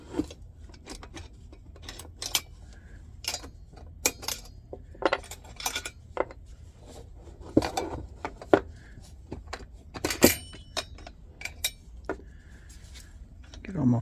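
Metal parts of a Russian Red Army stove cook kit clink and rattle as they are handled, with repeated sharp metallic knocks and jingles at an irregular pace, close by over faint background talk.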